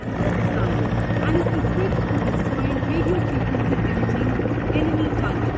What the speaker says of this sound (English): Combat helicopter प्रचंड और ध्रुव शामिल होंगे।